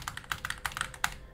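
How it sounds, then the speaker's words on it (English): Quick bursts of keystrokes on a computer keyboard during a hunter-class shooter match, a handful of sharp clicks in an uneven rhythm, close and fairly quiet with no talk. "Sometimes you just gotta type"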